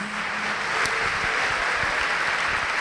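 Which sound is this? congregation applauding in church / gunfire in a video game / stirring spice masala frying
congregation applauding in church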